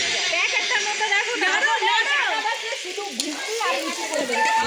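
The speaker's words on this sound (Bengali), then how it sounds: "এই দেখো এখানে মাংস কষানো হবে।" Meat sautéing in a pot at an outdoor picnic cookout gives a steady sizzling hiss beneath almost continuous chatter from several people nearby.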